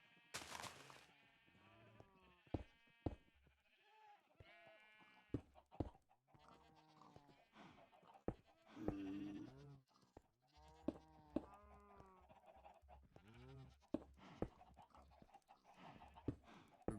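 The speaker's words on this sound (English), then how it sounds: "I can hear so many sheep." Sheep bleat over and over in the Minecraft video game, a flock of wavering calls overlapping near and far across the whole stretch with no talking.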